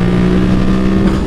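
A modified Yamaha MT-07 motorcycle revs hard with a loud, steady engine drone, close by and alone with no talk.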